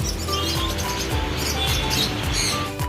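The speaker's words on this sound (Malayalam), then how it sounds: "ഇത് സൺ കൊന്നൂരാണ്." Continuous bright chirps and squawks from sun conures and other parrots in a pet shop, dense and close, with many birds calling over each other in a busy, noisy setting.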